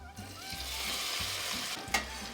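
Tender boiled potatoes drop into a pot of garlic and butter and sizzle steadily, with a few soft stirring knocks and a brief clink near the end, quiet and close.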